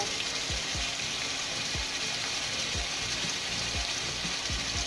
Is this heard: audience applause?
no